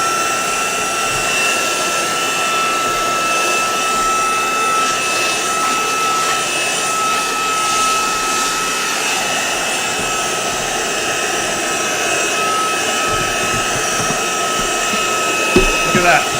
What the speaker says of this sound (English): Look at that. You get to watch me vacuum.